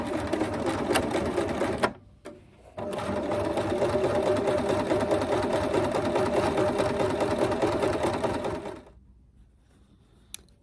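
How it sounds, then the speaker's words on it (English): Sewing machine stitching two fabric pieces across for a jerkin, a steady close, fast whirring run broken by a brief pause near two seconds, then stopping into near silence toward the end. "take the 2 pieces together and sew acrossways"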